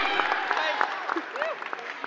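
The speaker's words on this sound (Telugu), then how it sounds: "గట్టిగా క్లాప్" A crowd at a film team's media interaction claps loudly in a dense, steady burst of applause, with voices and cheering mixed in close by.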